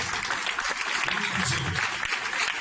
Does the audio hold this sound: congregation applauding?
yes